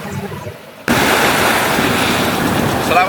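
Waves break on Tanjung Kelayang beach in Belitung, first a quieter wash, then a sudden loud, steady roar of surf mixed with wind rumble across the microphone.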